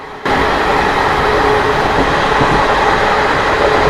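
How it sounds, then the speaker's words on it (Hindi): ICF rake express train running at 130 km/h, a sudden loud, dense rushing roar of wheels and wind with faint rhythmic clatter, steady and close from on board, no talk. "जब ऐसी स्पीड में आईसीएफ रेक्स दौड़ती है तो जो ध्वनि होती है वो बहुत ही आकर्षक लगती है"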